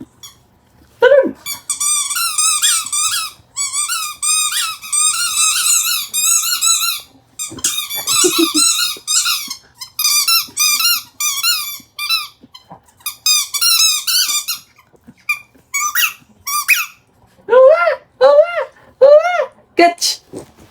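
A new potpot toy horn gives bursts of high, bright squeaks, pumped rapidly in clusters with short pauses, while an excited dog joins in and people are heard faintly around it.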